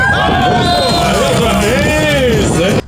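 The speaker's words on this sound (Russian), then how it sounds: "Болельщики «Ямбурга» кричат «Эйс»" Yamburg fans at a snow volleyball match in cold wind, a loud crowd chanting and shouting together in a dense, continuous roar of voices that cuts off abruptly at the end.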